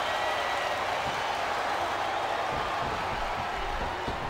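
Arena crowd noise from a SmackDown vs Raw wrestling video game, a steady broad roar of cheering spectators with faint scattered applause, continuous and even throughout.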